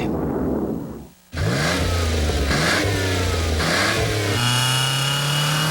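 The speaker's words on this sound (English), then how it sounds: "The Budweiser King Top Fuel Dragster, who says you need wings to fly." A Budweiser King Top Fuel Dragster engine roars loud and close, cutting out briefly and then surging back with rising, stepped revs that build to a sustained high-pitched howl.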